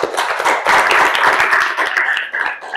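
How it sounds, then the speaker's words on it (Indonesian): Scattered, uneven clapping from a small audience at a Ramadan community event in Kediri, close and lively, thinning out toward the end. "Boleh tepuk tangan dong."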